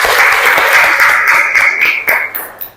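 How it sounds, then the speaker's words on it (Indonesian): Classroom applause from students after a teacher's clapping drill, a loud, dense wash of many hands clapping close by that thins and tapers off toward the end. "tepuk tangan buat kita semua"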